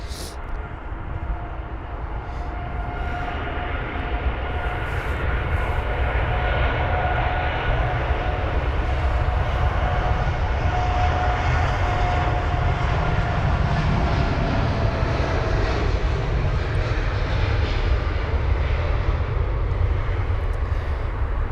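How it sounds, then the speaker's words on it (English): An Air India Boeing 787 Dreamliner departs London Heathrow, its jet engines roaring steadily and loudly for the whole stretch, with a broad rumble and faint whining tones that hold without a break. "the Air India 7878 Dreamliner, departing now, heading to Mumbai"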